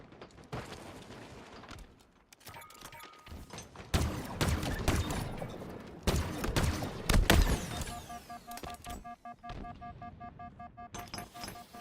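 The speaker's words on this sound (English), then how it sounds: "That's a good grenade by him." A grenade blast amid rapid gunfire in a Halo ranked match, with sharp bursts and heavy thumps clustered between about four and eight seconds before the fighting thins out, with no talk.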